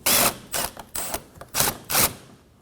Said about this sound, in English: With a 10mm socket, we're going to remove the 2 10mm